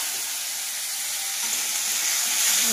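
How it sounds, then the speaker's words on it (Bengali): Loud, continuous sizzling as chopped onion and tomato fry in hot oil in a kadai, a bright hiss that swells slightly toward the end. "কড়াইয়ে তেল দিয়ে দিয়েছি, তেল গরম হয়ে গেছে। এখন দিয়ে দেবো কেটে রাখা পেঁয়াজ আর টমেটো"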